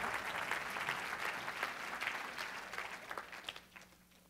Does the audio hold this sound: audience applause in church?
yes